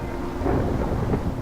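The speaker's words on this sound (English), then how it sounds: "Fucking rain!" Rolling thunder with steady rain in Minecraft, a loud, close, low rumble lasting a moment and blending with the hiss of falling rain.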